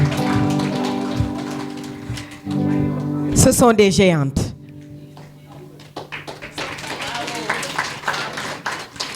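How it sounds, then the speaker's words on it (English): An audience at a celebration in Senegal breaks into scattered clapping that grows busier toward the end, with someone speaking loudly over it in French. "Est-ce qu'on peut applaudir?"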